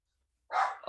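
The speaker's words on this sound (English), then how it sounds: "Sorry, that's my dog." A dog gives one short, sharp bark, then a brief second yelp, nearby and alone after a moment of silence indoors.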